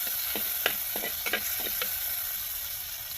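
Ingredients for a salad with dried fish and chili are mixed in a pan, with soft, quick scraping and tapping strokes in close irregular succession over a constant hiss.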